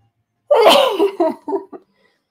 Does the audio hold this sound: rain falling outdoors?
no